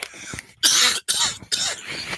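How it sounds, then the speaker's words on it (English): Three harsh, loud coughs in quick succession, each a sharp broadband burst separated by brief pauses, close to the listener. "I've got to cough."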